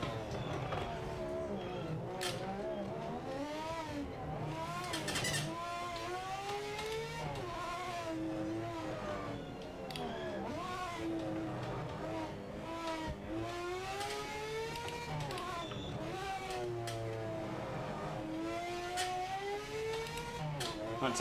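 Race car engines in the Project Motor Racing video game rev and rise and fall repeatedly through gear changes, a buzzy, bike-like whine that stays steady and fairly quiet, with a voice talking over it in places.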